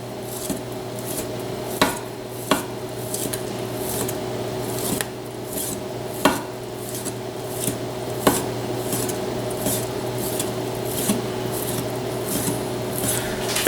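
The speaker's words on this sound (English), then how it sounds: "The steak gets sliced thin, okay, kind of like this." A knife slices steak thin for a steak-and-eggs leftovers dish, making a series of sharp, fairly regular cutting taps against a board, close and clear over a steady hum.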